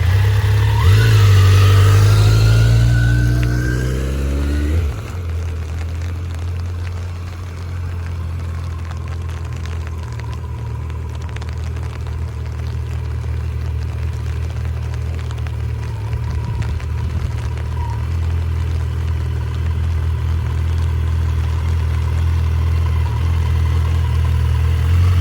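A motorcycle engine revs up sharply at the start, then settles into a steady low idle and rolling hum as the bike creeps very slowly across a parking lot. No talking.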